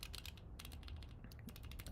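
A keyboard being typed on during a typing test, producing quick bursts of crisp, evenly paced key clicks with short pauses between, close but fairly quiet and without speech.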